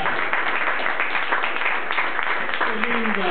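An audience applauds at a televised tribute show, a steady wash of clapping that stays loud throughout with a voice talking over it.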